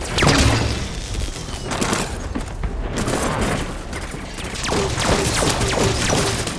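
Heavy gunfire rattles almost continuously as players shoot at soldiers in Halo 5: Guardians, with loud repeated bursts and impacts close up and little talk over it.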